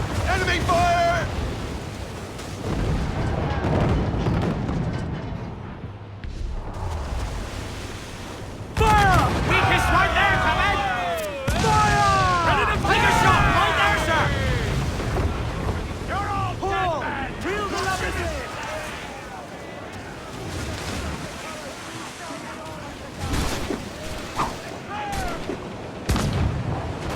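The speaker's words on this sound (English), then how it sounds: "Mortar incoming! Fire! Incoming fire! Enemy fire!" Mortar and artillery fire rumbles through a war video game battle: repeated heavy booms and blasts with whistling incoming shells, dense and loud throughout, while soldiers shout commands over the explosions.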